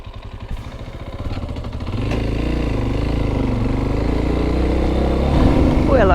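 A motorcycle rides a dirt trail near Soatá, Colombia, its engine rumbling steadily close by and building slightly in intensity, with occasional clatter and rattles over rough ground.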